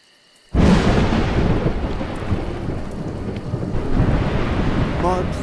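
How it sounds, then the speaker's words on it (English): Thunder in the video game A Juggler's Tale cracks in suddenly after a near-silent start, then rumbles loud and sustained with storm rain and wind noise for several seconds. "Thunder and lightning are terrible opponents."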